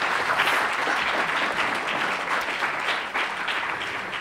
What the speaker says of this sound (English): So a big applause to all of us.